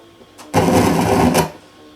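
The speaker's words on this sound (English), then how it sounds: "I can hear the tape deck motor running." Motor of a Toshiba RT-S90 tape deck starting up with a soft click, then whirring loudly and mechanically for about a second before cutting off.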